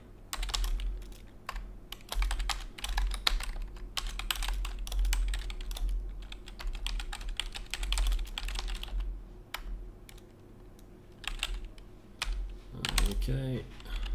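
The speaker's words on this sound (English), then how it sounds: "I'll type it in the chat here" Rapid clattering keystrokes on a computer keyboard come in quick bursts with short pauses, close and fairly quiet, with a brief low voice near the end.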